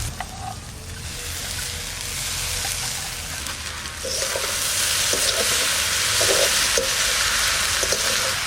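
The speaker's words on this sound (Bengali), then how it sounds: "এইবার দিয়ে দেবো শাক।" Freshly picked leafy greens sizzle loudly in a hot pan with onion and green chilli. The hiss is continuous and rises partway through, with occasional stirring scrapes and no talk.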